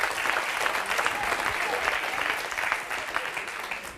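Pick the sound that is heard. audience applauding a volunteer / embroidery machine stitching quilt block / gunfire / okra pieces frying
audience applauding a volunteer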